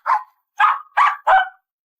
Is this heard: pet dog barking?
yes